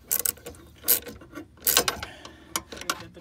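A bolt on a Prius hybrid battery module is tightened with a ratcheting tool, giving several short clicking bursts and pauses, close up and fairly quiet, with no voices.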